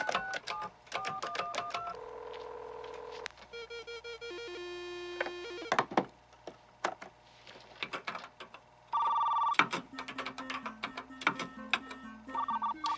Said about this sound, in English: Dialing into the school's computer.